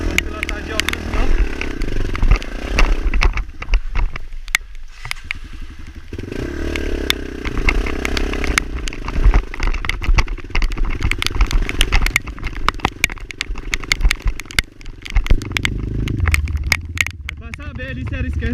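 A Yamaha TTR230 dirt bike rides a motocross track in the rain, its engine droning and revving continuously up close with clattering from the ride, while people talk over it.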